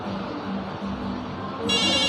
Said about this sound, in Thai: เดี๋ยวผมจะลองโทรดูนะฮะโทรเข้าโทรศัพท์บ้านนะครับ